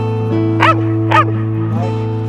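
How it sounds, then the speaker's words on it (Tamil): Two sharp barks from a nearby Belgian Shepherd, spaced about half a second apart, followed by a softer yelp, over a steady low hum. "அது வந்து உடனே குலைக்கும்."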